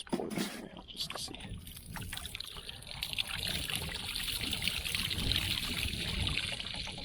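Water poured from a plastic test jug outdoors, a steady close trickle and splash running several seconds under wind and rustle.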